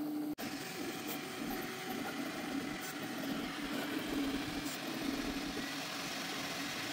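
An Anycubic Kobra 2 Max 3D printer runs a print while suffering a Y-axis layer shift, giving a steady, fairly quiet motor hum and drone with a single sharp click near the start.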